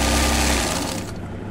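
A sewing machine runs steadily while zigzag stitching a fall onto a saree with transparent thread, a loud continuous mechanical whir that fades toward the end.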